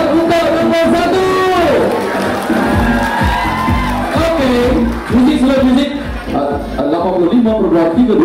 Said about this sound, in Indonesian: Tepuk tangan kepada kita.